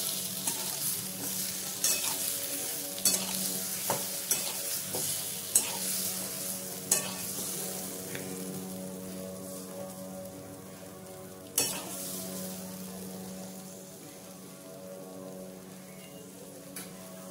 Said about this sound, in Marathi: आपण हे जे बटाटे घेतले तुकडून ते टाकून घेणार आहे त्याच्यामध्ये, आणि व्यवस्थित मिक्स करणार आहे